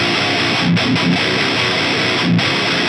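A high-gain distorted electric guitar plays through a Jensen neodymium speaker, thick saturated chords ringing loud and sustained with a few brief pauses between strummed hits.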